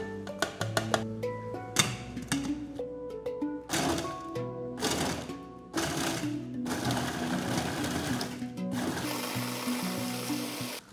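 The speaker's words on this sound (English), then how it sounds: "I chop onions, peppers and tomatoes in a mixer." A food mixer chops onions, peppers and tomatoes in loud, close, whirring pulses with a few knocks, then runs continuously toward the end.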